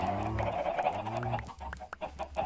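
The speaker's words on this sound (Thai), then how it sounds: "ฟาร์มไก่ไก่เยอะมาก" Chickens cluck repeatedly on a Minecraft 1.12.2 farm, a steady stream of short game-sound clucks close by with a low hum underneath, no one talking.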